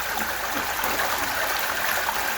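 Flood water from heavy rain flows steadily past an old house through a steep, bending channel, a continuous loud rushing and trickling wash with no pauses.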